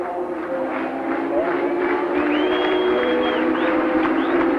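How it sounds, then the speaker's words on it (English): A large crowd at the 1983 Indian 350cc motorcycle Grand Prix cheers and roars steadily, a dense wash of voices that swells slightly partway through, with a high tone drifting above the noise. "What you hear is the cheer for Derek Huxley as he walks back to the pit"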